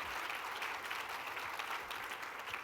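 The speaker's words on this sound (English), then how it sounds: "That deserves a round of applause" Conference audience applauding a mayor's speech, a continuous wash of many hands clapping at an even level throughout, heard somewhat distant and fairly quiet.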